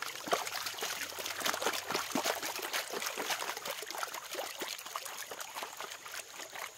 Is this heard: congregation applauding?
no